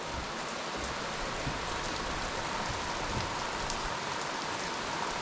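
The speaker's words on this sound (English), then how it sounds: "It's raining so hard that it's bouncing off the trailer." Heavy rain pounds down and bounces off a trailer in the Kootenays, a steady, dense hiss of drops with scattered sharper patters close by, continuous and loud throughout with no voices.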